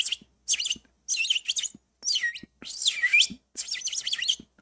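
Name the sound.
bird chirping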